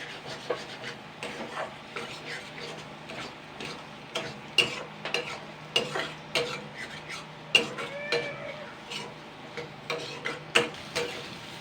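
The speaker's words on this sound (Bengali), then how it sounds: "এটা দিয়ে আমি জাস্ট দুই তিন মিনিট হালকা নাড়াচাড়া করে নেবো মানে ভাজা করে নেব" Egg mixed with gram flour stirred and fried in a pan over medium heat, with repeated scraping and rubbing strokes of a spatula at an irregular rhythm over a faint steady background, close and moderately loud with no talking.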